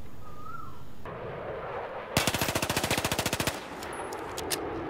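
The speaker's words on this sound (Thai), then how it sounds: "ใช้กล็อก 18C นะครับ ปรับเป็น Full Auto นะ" A Glock 18C BB gun set to full auto fires one rapid burst of roughly twenty evenly spaced sharp pops, close and loud, lasting about a second and a half.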